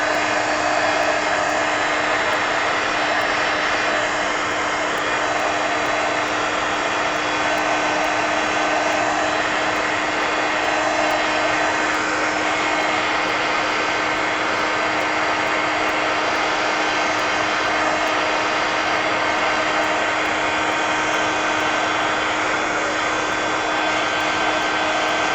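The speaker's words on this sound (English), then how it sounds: "let me go ahead and hit these with the heat gun real quick" A heat gun blows without a break as it dries freshly made art cards, a loud, even, roaring rush of hot air with no pauses and no talk.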